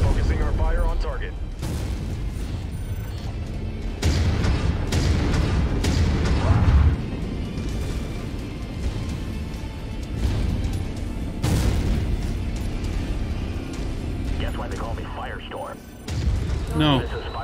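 Heavy mech weapons in Mechwarrior 5 boom and thunder repeatedly, with bursts of fire and deep explosions rolling through a dense battle din, loud and close, while voices talk over the action.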